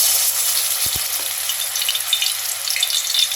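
Onion paste hitting hot oil in a wok, a loud, close, steady hiss of frying with a couple of short knocks near the start and no talking.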